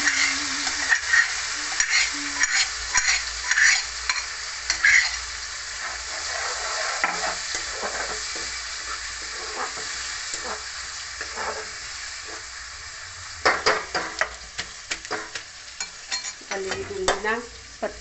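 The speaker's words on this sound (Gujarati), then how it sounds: "બધું તળાય હરખી રીતે અને આટલા મિક્સ કરી દેવાનું ચમચાઈ" Tomato gravy with ginger paste fries and sizzles in a pan while a spoon stirs and scrapes through it in repeated bursts, with a steady hiss underneath.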